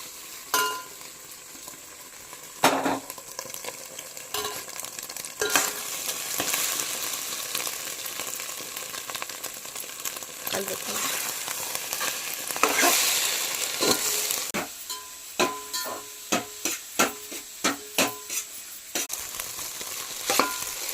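Egg rice ingredients frying in a pan, a steady sizzle with scraping stir strokes and a few sharp clinks of a utensil against the metal, close and moderately loud with no voices.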